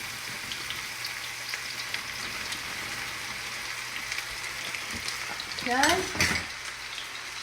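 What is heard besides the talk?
okra frying in hot oil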